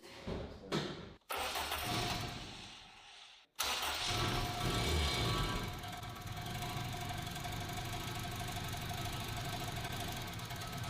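Honda Civic with a turbocharged K24 engine cranking briefly, cutting out, then catching and revving up before settling into a steady loud idle, heard close.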